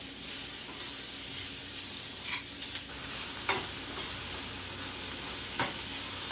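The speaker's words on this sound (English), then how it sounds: "So I'm just going to saute them like this." Shrimp sautéing in a pan for shrimp and cheese grits, a steady close sizzle with a few sharp utensil scrapes and clicks as they are stirred, no talking.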